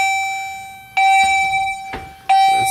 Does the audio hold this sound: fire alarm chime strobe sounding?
yes